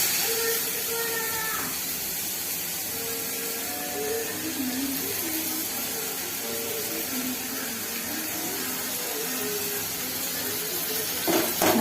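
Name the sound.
tomatoes sizzling in pan for quail fry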